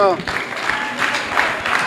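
Audience applause at a Génies en herbe school quiz contest, a steady patter of clapping from a hall crowd lasting the whole moment, fairly loud and even.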